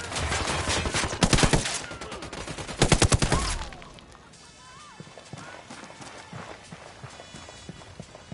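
Rapid bursts of gunfire in two close loud volleys, sharp repeated cracks, followed by quieter scattered shots and movement; someone speaks around them.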